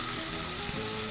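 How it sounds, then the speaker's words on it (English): Beef strips for teriyaki stir fry sizzle and crackle steadily in a hot non-stick pan, a dense, close frying hiss with no talking. "and you can hear the sizzle."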